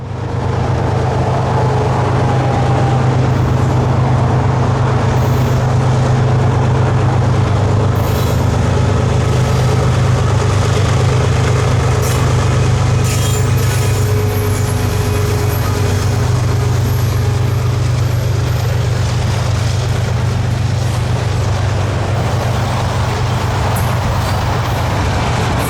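CSX freight train Q453, led by locomotive 3194, rolls past on the Florida S-Line as a loud, continuous low rumble of engine and wheels that holds steady for the whole stretch.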